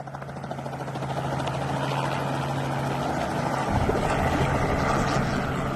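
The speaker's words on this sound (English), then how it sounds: "The Mi-8 lifts off" Mi-8 helicopter lifting off during wildfire rescues in Zululand, heard as a loud, steady rotor and engine roar that swells over the first seconds and stays heavy and close.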